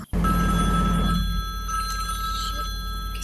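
A telephone bell rings loudly and steadily through the whole moment indoors, a continuous electronic ring with steady tones and no voices.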